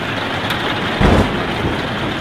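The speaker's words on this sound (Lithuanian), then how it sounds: "Bet kaip griaudžia, čia virš mūsų eina kaip tik dabar." Heavy rain pours down during a night thunderstorm at a campsite in Croatia, a dense steady hiss with a deep thunder rumble swelling briefly midway, close and loud.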